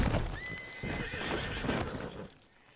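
Horses in Red Dead Redemption II neigh shrilly over clopping hooves, a loud whinny rising above close, rhythmic hoofbeats that fade toward the end.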